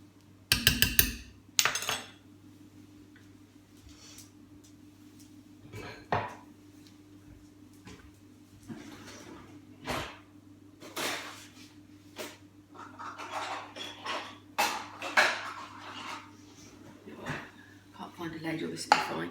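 Celery soup being served up with utensils into a dish, with scattered clinks and scrapes of metal against crockery and a couple of sharper knocks near the start, close and fairly quiet.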